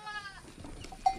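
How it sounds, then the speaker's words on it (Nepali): Goats bleat close by as they come near, with a wavering harmonic cry at the start and a second short bleat near the end, fairly faint over quiet outdoor background. "मेरो बाख्राहरू आउँदैछ गाइज मेरो बाख्राहरू आउँदैछ"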